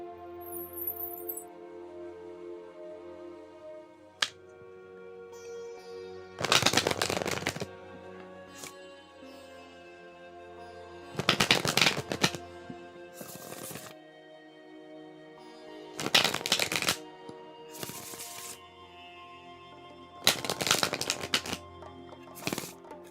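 A deck of fortune-telling cards shuffled in several separate bursts of fast crisp riffling, each a second or two long and close up, set apart by quiet gaps over soft sustained background music.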